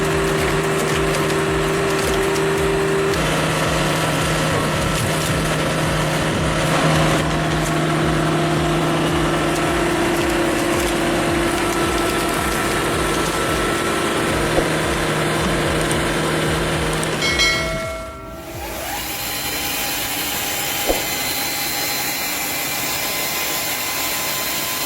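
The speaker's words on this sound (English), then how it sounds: "With its 80 horsepower Cat turbo diesel engine, this beast doesn't just split logs, it obliterates them with precision." Firewood processor driven by an 80 horsepower Cat turbo diesel engine, with an adjustable four-way wedge splitting logs; a loud, steady engine drone with wood cracking runs continuously, then cuts abruptly to a quieter hum near the end.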